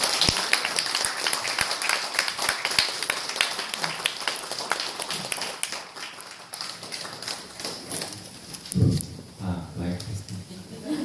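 A church congregation claps loudly for a brother coming up to speak, dense applause with sharp individual claps that thins out and fades, followed by a voice speaking near the microphone.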